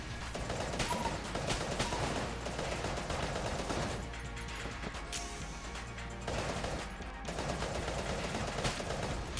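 Video game gunfire, rapid bursts of shots and mechanical clatter running almost continuously and loudly across the clip, with brief gaps and no talking.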